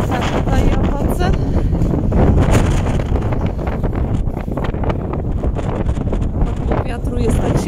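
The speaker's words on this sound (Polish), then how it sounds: "Wiatr jest tak silny, że trudno utrzymać jest mi telefon." Heavy wind buffets a phone microphone at an outdoor town market in Łowicz, Poland, in continuous loud rumbling gusts, with some faint background activity.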